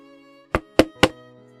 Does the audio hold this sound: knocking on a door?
yes